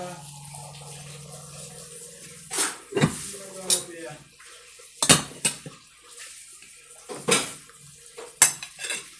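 Utensils clink and scrape against a metal pot as meat is lifted out, several sharp irregular metallic knocks and scrapes, close and fairly loud over quiet background.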